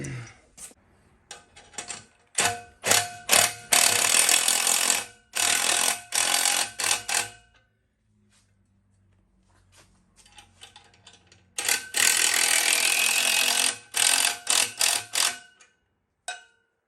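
A wrench clicks in quick ratcheting bursts while tightening 1/2 inch and 9/16 fittings, loud and close, with a quiet pause between two runs of clicking.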